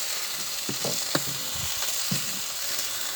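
A steak fries in a pan with a steady, close hiss of sizzling fat, broken by a few soft clicks and pops from the pan.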